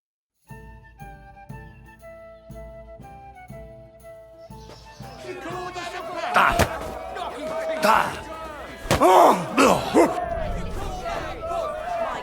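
Bare-fisted brawl in Kingdom Come Deliverance II after a wager, with heavy punch impacts landing irregularly over a loud, busy scene full of shouting voices and background noise.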